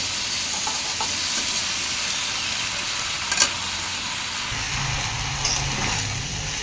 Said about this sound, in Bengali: মাংসটা কি সুন্দর হয়ে আমার ভাজা হচ্ছে